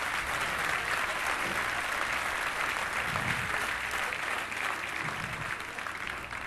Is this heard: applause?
yes